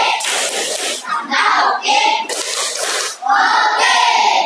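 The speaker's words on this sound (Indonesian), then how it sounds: "kasih tepuk oke dulu mereka. Tepuk oke." A school class claps out a rhythmic cheer in unison, short bursts of patterned clapping mixed with children's voices chanting along, close and lively.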